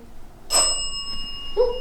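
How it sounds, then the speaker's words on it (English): A bell rings once with a bright metallic strike that rings out and lingers, followed by a fainter second tone, inside an old prison building with creaking floorboards. "There goes the bell again."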